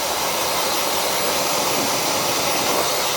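A blow dryer roars steadily and close, a dense broadband rush of air aimed at a miniature poodle's ears during grooming, holding constant with no voices over it.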